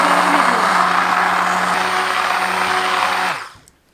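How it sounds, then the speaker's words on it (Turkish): A blender purées banana peel marmalade with a loud, steady motor whir that holds for over three seconds, then spins down and cuts off near the end. "şimdi tekrar blenderdan geçirmek"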